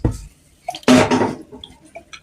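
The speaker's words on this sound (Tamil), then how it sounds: "அதை மிக்ஸியை அரைச்சிட்டு தண்ணி ஊற்றிக்கலாம்" Water splashes into a kitchen mixer jar holding freshly ground rasam spices, a short gushing pour of about half a second that begins after some faint clinks and is followed by light drips and taps.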